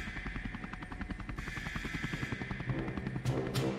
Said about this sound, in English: Helicopter falls on Charles!